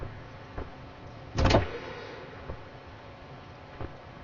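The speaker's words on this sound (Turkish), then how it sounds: "Ne olur ne olmaz şu kapıyı da açalım." A door swings open in the physics puzzle game Human Fall Flat, one brief mid-loud creak-and-thump standing out against low background hum, with a few faint knocks before and after.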